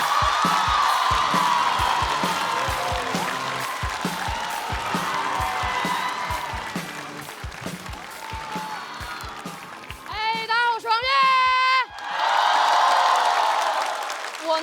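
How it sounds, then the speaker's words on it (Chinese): A studio audience at a Chinese stand-up comedy competition semi-final claps and whoops for a comedian, loud applause at first, then scattered claps under music, with a strong burst of cheering near the end. "掌声有请王悦。"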